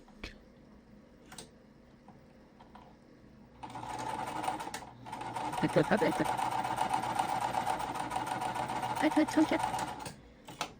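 A sewing machine stitches quilt pieces for a puzzle-style quilt, starting after a few quiet seconds and running in two steady bursts with a brief pause between, fairly close and clear.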